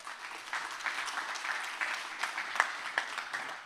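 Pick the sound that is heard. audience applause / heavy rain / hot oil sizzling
audience applause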